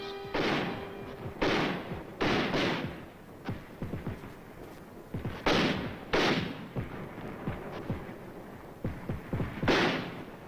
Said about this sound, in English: Mortars blast at the approaching Reds who threaten to cut off the combat teams.